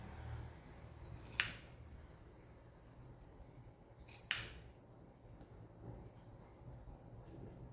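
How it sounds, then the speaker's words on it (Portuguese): Ordinary scissors cutting a fabric opening while sewing an Easter bunny bag, two sharp isolated snips about three seconds apart over quiet room background. "Eu vou fazer aqui, é a minha abertura, né, na tesoura comum."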